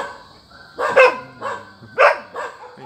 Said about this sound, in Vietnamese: Mấy chó ồn quá.